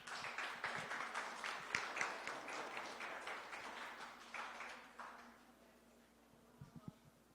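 An audience at a human rights magazine launch event in Mexico claps in a brisk burst of applause that gradually thins and fades, leaving a few scattered claps at the end; no speech.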